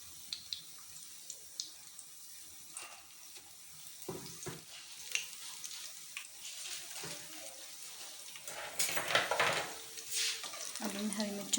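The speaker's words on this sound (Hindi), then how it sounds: "इस तरह से डिप करके हम फ्राई करेंगे मिर्चों को।" Green chillies dipped in batter frying in hot oil give a soft, continuous sizzle and crackle with intermittent bubbling bursts, growing busier toward the end, fairly faint and close.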